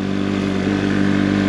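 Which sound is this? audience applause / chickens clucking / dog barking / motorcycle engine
motorcycle engine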